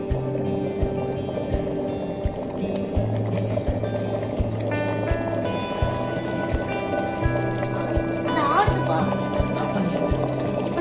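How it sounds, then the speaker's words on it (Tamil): Water bubbles and rumbles at a steady boil in a 1.5-litre Butterfly electric kettle, with a constant hiss and a faint rhythmic knocking underneath. "அங்க பாருங்க தண்ணி நல்லா கொதிக்குது."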